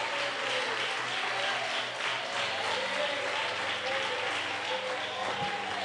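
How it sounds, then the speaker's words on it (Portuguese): Congregation at a home church service clapping for Jesus, a continuous dense wash of many hands with a faint hum and murmur beneath, loud and sustained without pause. "Palmas e glória."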